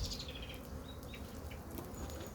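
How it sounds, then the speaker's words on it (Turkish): Honeybees swarm around an opened hive during an inspection, a faint, steady buzzing drone with a few thin chirps above it. "Oradaki bala geliyor arı"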